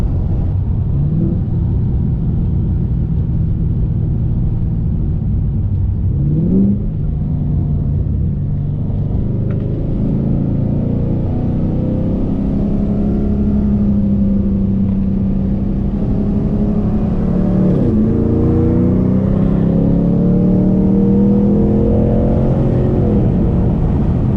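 Pontiac G8 GT accelerating hard on a highway, a loud continuous engine roar with rising and falling pitch through gear changes, steady road rumble beneath.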